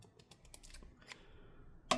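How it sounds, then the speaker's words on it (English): Scissors cut clear edge guard tape on a JOOLA Hyperion Pro IV 16mm pickleball paddle: faint light ticking, then one sharp, close snip near the end, with no talking. "I guess I'll just snip it and see if I can peel it downwards"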